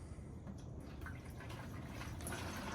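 Used engine oil from a Ford Expedition 3.5L V6 EcoBoost pours in a faint, continuous trickling stream into a recycling can, quiet and steady throughout.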